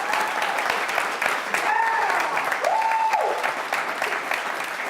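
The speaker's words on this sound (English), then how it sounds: "Ladies and gents, please give a big round of applause to Georgia Cheyne and Sophie Sanders." Enthusiastic applause from the audience at an LSU student union presidential election debate fills the whole stretch, a dense steady clapping with a voice heard faintly over it.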